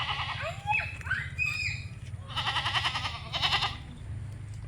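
Several goats bleat in quick succession at close range, wavering cries overlapping each other above a steady low rumble.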